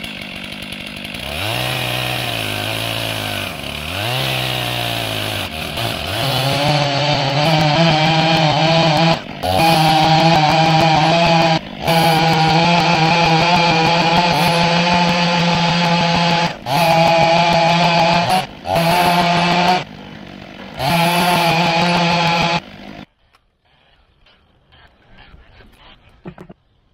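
A STIHL MS500i chainsaw on an Alaskan mill cuts through an oak log. The engine drones loud and close, with its pitch shifting under load, and it briefly dips several times before cutting off, leaving near silence.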